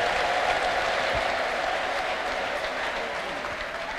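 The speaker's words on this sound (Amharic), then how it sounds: "ለጌታ ከፍ ያለ ልልታና ጭብጨባ።" Sustained clapping from a church congregation during a healing service, a steady dense wash of applause that fills the whole stretch without a break; the ululation is not clearly distinguishable within it.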